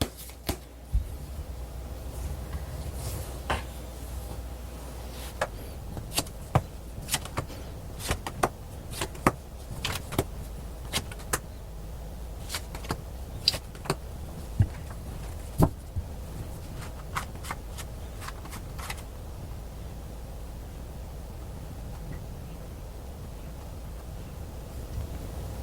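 Tarot cards handled at a table in a quiet room, with soft shuffling and sharp, scattered flicks and taps as cards are drawn and laid down, irregular and close over a low steady background hum.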